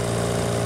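A tractor engine runs steadily on a main road, a loud, close, continuous mid-to-low drone with a constant hum and no pauses.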